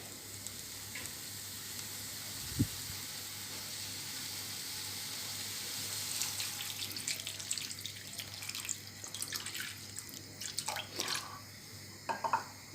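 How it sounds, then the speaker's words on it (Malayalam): A glass of water is poured into a pan of ash gourd buttermilk curry seasoned with turmeric and pepper powder, starting as a faint hiss and swelling into a louder, crackling sizzle and splash in the second half. "ഒരു ഗ്ലാസ് വെള്ളം ഒഴിച്ചു കൊടുക്കാം."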